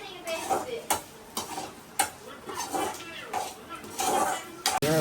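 Sambar rice is stirred in a pot with a ladle, giving repeated thick scraping strokes and clinks, close and moderately loud, while people talk.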